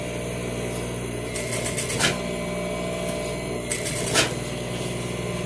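Sewing machine stitching the sleeve of a vinyl leather jacket, a steady mechanical hum with two short bursts of faster, louder needle clatter, and no one speaking.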